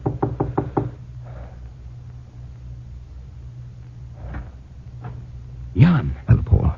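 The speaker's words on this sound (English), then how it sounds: "I made sure no one was following me and knocked on the door." Knocking on a wooden door in a 1945 radio drama, a crisp run of five quick raps close by, followed by a low hum and a voice speaking briefly toward the end.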